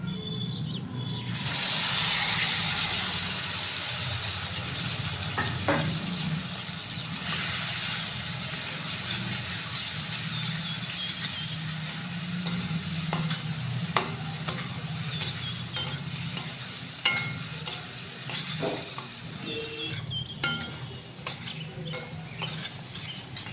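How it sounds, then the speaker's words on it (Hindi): A spice mixture for kachri chutney sizzles steadily in a hot pan while a spoon stirs and scrapes through it, with occasional clinks. "मसालों को भी भून लिया है"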